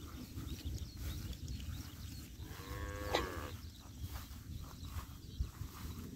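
Brahman cattle and calves by the Pa Sak dam in Lopburi: one clear moo rises midway through, moderately close, over a constant outdoor rustle and faint shuffling hooves, with no talking.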